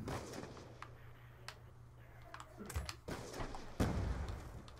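An automatic sniper rifle fires in Call of Duty Black Ops 2 as a few sharp, fairly quiet booming shots over low game background noise, the last one the loudest, with no talking.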